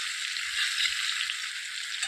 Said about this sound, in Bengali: লাল লাল করে ভাজা।